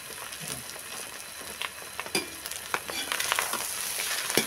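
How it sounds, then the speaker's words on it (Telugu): Chicken fried rice with shredded cabbage stirred in a hot pan, a steady close sizzle of frying with repeated scraping and clacking of the spatula, no voices. "ఒకసారి కలుపుకొని అడుగు మాడకుండా అట్లా కలుపుకుంటూ ఉండాలండి."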